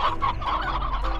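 Chickens cluck in their pen in the game Slime Rancher, a steady overlapping murmur of short clucks that stays close and fairly loud with no talk.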